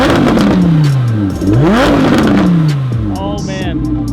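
An Audi R8 fitted with a Fabspeed exhaust accelerates hard, its loud engine note sweeping up and down through several gear changes close by, with a brief higher whine near the end.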